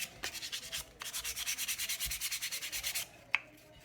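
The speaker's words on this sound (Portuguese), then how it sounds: "a gente dá essa lixadinha em toda a peça, só para dar uma alisadinha" Sandpaper rubbed by hand over a wooden piece being prepared for painting, a steady run of rhythmic rasping strokes close by, pausing briefly and ending with a small knock.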